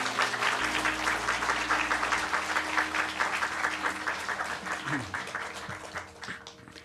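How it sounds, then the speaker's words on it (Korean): A church congregation at a New Year revival service applauds the pastor with sustained, dense clapping throughout, with a low hum and a brief voice murmur beneath. "큰 박수를 우리 함께 맞이하도록 하겠습니다"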